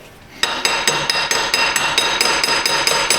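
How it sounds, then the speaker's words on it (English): Steady, rapid metallic hammer taps ring out one after another, about a dozen sharp strikes at close range on an engine intake bolt of a 2007 Chevrolet Silverado. "I'm just tapping down on this intake bolt."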